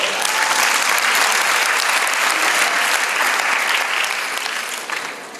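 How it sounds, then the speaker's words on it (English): Loud, sustained applause from a large audience at a women's leadership summit in Malaysia, dense continuous clapping that fills several seconds and eases off slightly at the end. "Let's give these great ladies a round of applause."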